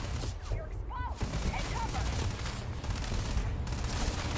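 Enemy gunfire rattles in bursts in the space shooter game Starfield, loud, continuous and dense across the whole stretch, with a few short electronic tones near the start and no talking.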